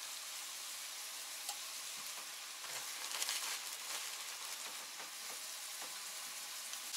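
Pork heart frying in a pan with potatoes, giving a steady, even sizzle throughout with light scattered crackles and a few soft stirring clicks, close by, with no one talking.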